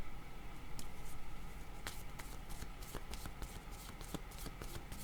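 Playing cards shuffled and drawn by hand, a steady stream of crisp riffling and snapping card sounds with sharp flicks throughout, close up and without speech.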